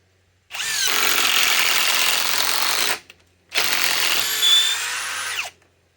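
A RIDGID impact driver runs in two long bursts of about two and a half and two seconds, separated by a short pause. The whirring, hammering tool sound is loud and close, with no talk.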